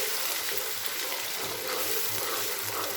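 Onion paste fries in hot oil for a beef kofta curry, a continuous bright sizzle with soft, regular stirring strokes underneath, steady and close throughout, with no one speaking.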